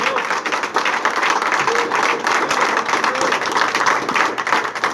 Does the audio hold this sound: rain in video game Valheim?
no